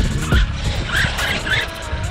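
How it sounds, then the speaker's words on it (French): An Arrma Granite V3 Chevy RC car on slick tyres skids at a skate park. Its motor whines and the tyres squeal in short, loud bursts close by, with a few faint voices in the background. "Avec les pneus slick, ça glisse."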